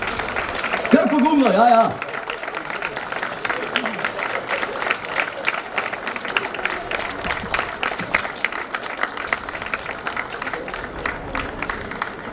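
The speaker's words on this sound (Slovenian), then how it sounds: "Še malo večji aplavz, lepo prosim" Audience applause at an outdoor May Day event in Opatje selo, with steady crowd clapping after a brief burst of talk, continuing loud and dense under occasional voices.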